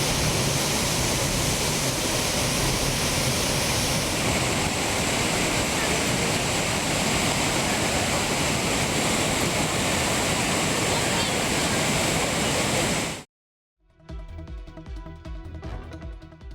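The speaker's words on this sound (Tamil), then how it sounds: "குற்றாலம் மெயின் அருவியில் நீர் ஆர்ப்பரித்து கொட்டுவதால்" Courtallam Main Falls in Tenkasi pours in heavy flood, a loud, dense, unbroken roar that fills about thirteen seconds before cutting off abruptly into music.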